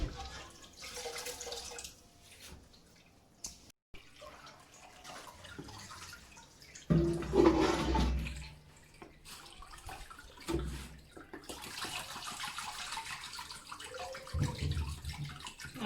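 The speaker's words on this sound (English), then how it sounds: "I've added some water into the chaff and I'm squeezing." Wet squelching and trickling as palm nut chaff is squeezed by hand in water and strained for banga soup, with irregular splashy bursts and steady dribbling, close up.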